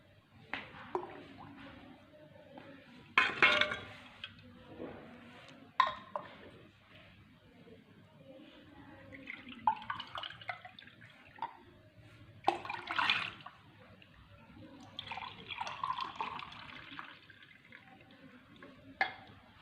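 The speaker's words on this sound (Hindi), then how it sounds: "एक जग में हमने ठंडा पानी लिया है। अब हम शरबत को इसमें डाल देंगे।" Almond sharbat is poured into a jug of cold water in several separate bursts, soft splashes and glugging pours broken by quiet pauses and drips, close and fairly faint.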